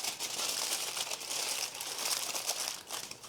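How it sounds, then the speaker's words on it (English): Aluminium foil crinkles and crumples steadily as it is wrapped around a head of garlic dressed in olive oil, a close, continuous rustling with no pauses. "Then all you want to do is just wrap it in foil."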